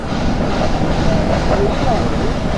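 A train with an old engine rumbles steadily past at close range at a level crossing, a continuous heavy roar with metallic squeals rising now and then.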